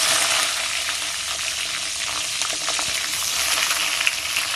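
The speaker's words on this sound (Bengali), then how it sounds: "এই বেগুনগুলোকে আমি ফাঁকা তেলে ভেজে নিচ্ছি কালা জিরে দিয়ে" Cut eggplant pieces frying in plain oil with nigella seeds, a loud, dense, continuous sizzle heard up close with a faint stir or two and no talking.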